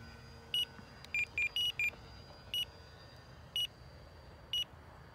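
A timer sounds a series of short high electronic beeps, singles and quick clusters spaced irregularly, fairly faint over a low steady background hum.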